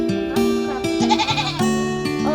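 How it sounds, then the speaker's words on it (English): A baby goat on a farm in Chiang Mai, northern Thailand, lets out a run of loud, close, quavering bleats, several calls in quick succession with short gaps and a wavering, high-pitched tone. "That's a baby goat right there."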